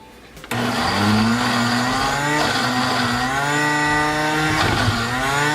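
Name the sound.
blender blending butternut squash soup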